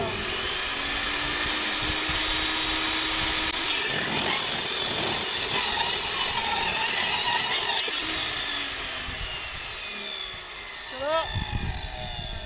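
A power saw cuts oak boards for a porch build, running as a loud sustained whine for most of the stretch with brief changes in pitch as the blade works through the wood, and a short drop near the end.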